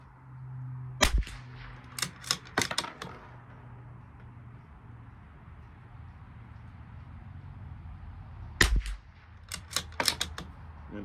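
A Bergara B14R rifle fires at an outdoor rifle match, a sharp report followed by clusters of distant cracks and echoes, with another near shot and a further burst of reports toward the end.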